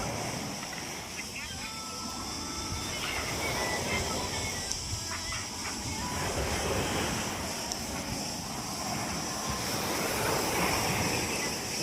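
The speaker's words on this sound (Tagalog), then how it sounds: "Lumalakas na yung alon na." Sea waves at a beach in Greece wash and surge continuously, a broad hissing roar of surf that builds as the waves grow stronger, with voices faintly in the background.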